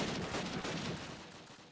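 Covering gunfire in Call of Duty: United Offensive, a dense rattling burst of rapid shots that fills the clip at close range and slowly fades.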